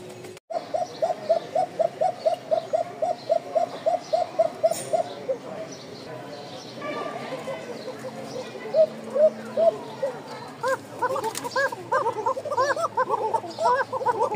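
Pigeons kept for sale coo in a steady rhythmic series of soft repeated calls, close by, with more varied cooing later and occasional handling noise.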